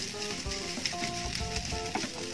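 Herb fried rice stir-fried in a slippery Teflon pan over low heat, giving a soft continuous sizzle with scraping and stirring clinks from a spatula, fairly quiet and close.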